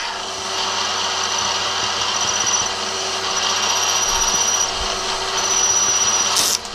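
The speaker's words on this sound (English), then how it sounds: "Alright, just going to drill a through hole." A power drill bores a through hole in brass, a loud continuous whirring grind that holds steady for several seconds and ends with a short sharp squeal as the bit grabs.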